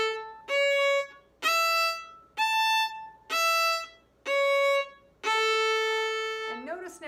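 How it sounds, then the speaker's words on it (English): Bowed string instrument playing an ascending major arpeggio from open A, one separate bow stroke per note, six clear sustained tones with the last held longer, close and alone. "let's just play one bow on each note. So it'll sound like this, starting on A."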